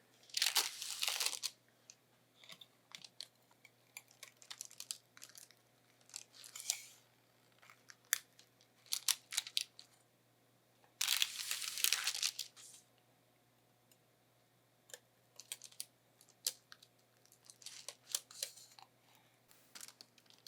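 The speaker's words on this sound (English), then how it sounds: "So I like to go ahead and cut it into pieces." A sharp knife cutting through a pan of homemade granola bars, with crunchy, crackling bursts of slicing separated by quiet pauses, close up and with no talking over it.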